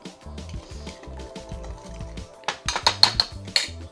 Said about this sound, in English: And then you're gonna wanna stir that all up.